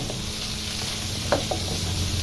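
Tomatoes added to a hot frying pan give a steady, loud sizzle with a few soft stirring taps over the constant hiss.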